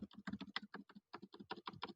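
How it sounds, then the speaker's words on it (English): Computer keyboard keys are clicked in a quick, uneven run of close, crisp taps, with a brief pause near the middle before the typing resumes, heard alone in a quiet room. "it's just me clicking the keys on my keyboard"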